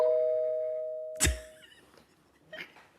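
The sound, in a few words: doorbell ringing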